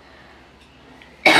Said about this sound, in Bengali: বেশি কথা বললেই কাশি এসে যাচ্ছে গলাটায়